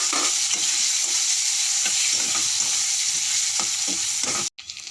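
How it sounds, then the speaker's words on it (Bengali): Potatoes frying in hot oil with turmeric and salt in a wok, a steady dense sizzle with repeated scraping stirs, cutting off abruptly near the end. "এবার আমি আলুটাকে ভালো করে ভেজে নেব"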